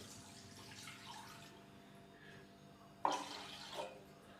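Water poured from a glass into a cooking pot holding meat for a pumpkin and meat curry broth, a steady soft splashing stream with a sharper splash near the end, no voices.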